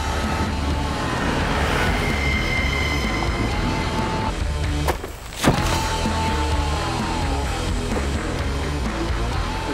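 A vehicle's engine and tyre noise, loud and steady in a dry, remote setting, with a short dip midway and then continuing at full level.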